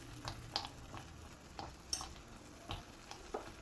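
A banana and rice flour batter is stirred in a pan as it thickens, giving quiet, repeated scraping and stirring strokes over a faint, low sizzle.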